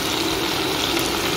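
Water pours steadily into a pan of hot jackfruit and prawn curry, giving a continuous rushing hiss mixed with sizzling. The sound is close and stays even from start to finish.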